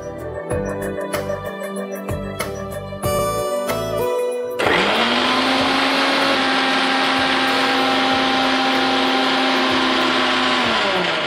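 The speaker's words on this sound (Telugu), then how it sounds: "సో చక్కగా మనం మిక్సీ పట్టేసుకున్నాము." A mixer grinder blends strawberries with water, starting after a few seconds of music and running as a loud, steady, close whir to the end.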